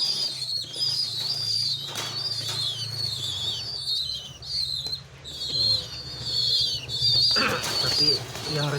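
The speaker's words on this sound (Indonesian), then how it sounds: "ini indukan merpati pos, jantannya pos, dan induk betinanya sudah silangan" Homing pigeons coo in a loft, soft low throaty calls repeating close by, with faint wing flutters and chirps from breeding pairs and a hint of background voices.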